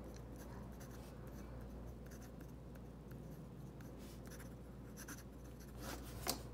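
A Pilot Custom 74 fountain pen writing on paper, a faint, steady scratching of the nib over a low background hum, with a brief louder tick near the end and no talking.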